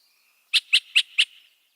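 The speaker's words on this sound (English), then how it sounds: "It's got whistles, it's got clucks, it's got hoots, it mimics other birds." A chat, a warbler of moist shrubbery near water, sings four quick, evenly spaced clucking notes over a thin steady whistle, close and clear.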